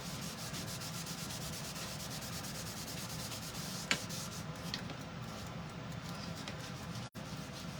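Steady, continuous rubbing of a light coat of colored wax onto a wooden piece, a soft even scrubbing texture with faint rhythmic strokes, close and alone without talk.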